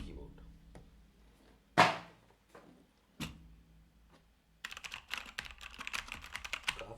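Typing on a Motospeed CK67 mechanical RGB keyboard, with a couple of loud isolated key clacks followed by a dense burst of rapid clicky keystrokes, close and crisp.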